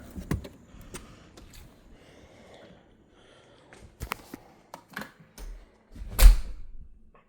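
The front door of a house is opened: scattered clicks and taps from the latch and handle, a few soft thumps, and a heavier bump near the end, all close in a quiet room.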